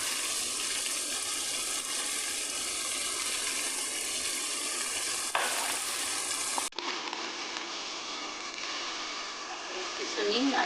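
Chicken sautéing in a pan with salt and pepper seasoning gives a steady, bright sizzle throughout, with a brief clatter midway and a slightly quieter, continuing fry afterward.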